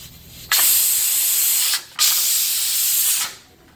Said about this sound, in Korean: 불을 끄면은 이 딸랑딸랑 소리가 약간 숨이 죽을 때 아마 한 1분 정도 소요될 거예요. 뚜껑을 열 거예요.